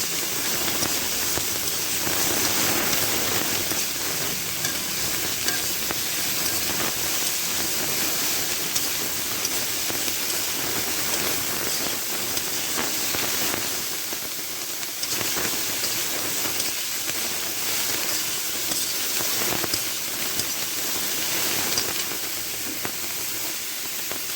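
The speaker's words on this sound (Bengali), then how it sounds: "ভালো করে ভেজে নেব, অল্প জালে ভালো করে ভেজে নেব।" Potato dal with soybean sizzles while frying on a low flame, a steady, close, even hiss and crackle that continues without a break.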